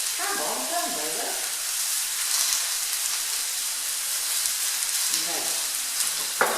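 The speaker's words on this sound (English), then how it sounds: "I've put it in and I can hear it sizzling" Skirt or flat iron steak sizzles in a hot pan, a steady bright hiss of frying that carries throughout, with a few faint stirring noises and short murmurs from nearby.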